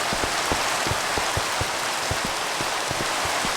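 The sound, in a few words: rain in Minecraft video game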